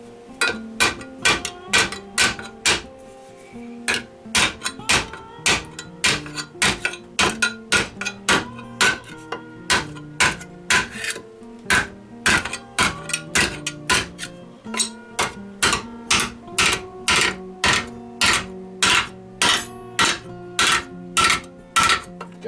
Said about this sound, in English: I can set this right on top of the buck, and that'll give me a solid surface to pound on to try and flatten this out.